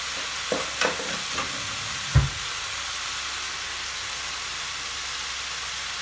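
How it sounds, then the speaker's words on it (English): Sauce poured into a hot pan of chicken and cashew stir fry, giving a few quick splashes and a sharp sizzle burst before settling into a steady background hiss, with no talking. "we're going to add our sauce, and you just want to make sure that you get all of the corn flour off the bottom"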